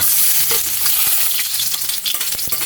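Ginger sizzling and frying in hot oil in a pan for mussel tinola, a loud, dense, continuous crackle with occasional stirring scrapes, close up and with no talking.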